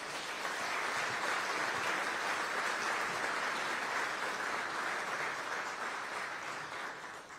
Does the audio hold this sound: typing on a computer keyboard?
no